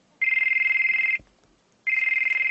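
A cell phone ringtone sounds loud and close in two sustained electronic bursts, each about a second long, separated by a short silent gap.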